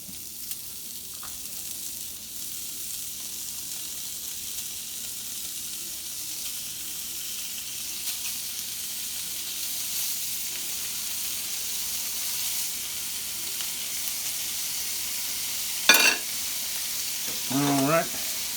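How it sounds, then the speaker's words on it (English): Smoked sausage browning in a lidded pan gives a steady, close sizzling hiss that runs throughout, with a couple of brief clinks and scrapes near the end and no talking. "Get that all browned."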